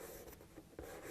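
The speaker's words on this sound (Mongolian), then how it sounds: "Тэгвэл багш нь энд бичье." A teacher writes an answer on a board in a first-grade maths lesson, making a short, faint scratch of chalk or marker strokes at close range with a brief tap in the middle.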